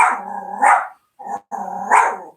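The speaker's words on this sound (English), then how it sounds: "Excuse me, that's my dog." A pet dog named Eddie barks close by at home, two or three loud, sharp barks in quick succession with brief gaps and nothing else around them.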